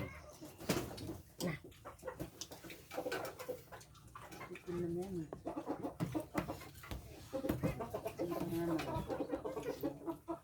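Chickens cluck and murmur nearby among outdoor household noise, with a few soft cooing calls standing out over people talking and clattering sounds.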